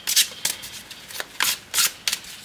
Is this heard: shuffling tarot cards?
yes